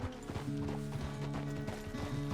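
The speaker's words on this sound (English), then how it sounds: "The horse can feel your fear." Horse hooves clip-clop at a steady walking pace in the video game Red Dead Redemption 2, soft and fairly quiet, with repeated hoofbeats throughout.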